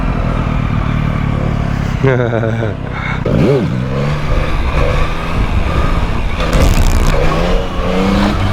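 A Honda SH scooter revs hard through a wheelie at a motorcycle meet, its engine whining and surging in loud, rising and falling bursts with steady background noise.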